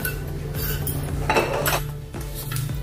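A spoon clinks against a cooking pan on the stove while oil goes in, several light metallic taps close by over a low steady hum, with no talking.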